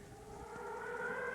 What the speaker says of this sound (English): Okay, I hear the air raid sirens again.